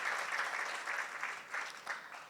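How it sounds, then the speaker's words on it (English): Faint, distant applause from an audience at the inauguration of a children's hospital in Fiji, with the clapping rising and falling in soft swells throughout. "This deserves a huge round of applause."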